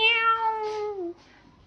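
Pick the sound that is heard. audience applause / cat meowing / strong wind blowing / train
cat meowing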